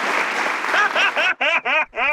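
Canned applause plays briefly at first, then a voice imitates clapping and cheering with a few rhythmic vocal bursts, close and loud.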